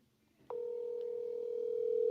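A steady electronic voicemail beep on a forwarded phone call starts abruptly after a short quiet lead-in and holds as a sustained tone to the end, slightly rising in level.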